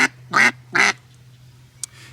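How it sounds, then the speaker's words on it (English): A wooden duck call that is louder, sharper and higher pitched than a mellow call is blown for three raspy quacks, the first two strong and close together and the third fainter, heard up close and alone. "I'll give it a quack here"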